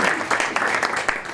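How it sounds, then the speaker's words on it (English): An audience at a business luncheon breaks into brief applause, with scattered and uneven clapping that fades after about a second. "Another round of applause."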